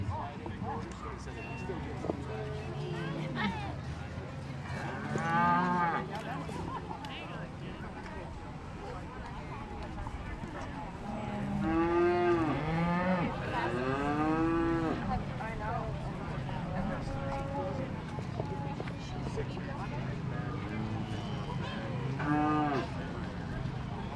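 Beef cattle in a livestock show ring give several drawn-out, fairly loud moos at intervals, heard over an announcer speaking continuously on a PA and the low murmur of the arena.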